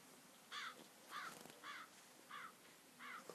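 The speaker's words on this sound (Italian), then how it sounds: "Ragazzi, avete sentito dei corvi." Crows caw in a video game set in a mental hospital, five harsh calls spaced evenly about half a second apart, clear and alone over a quiet background.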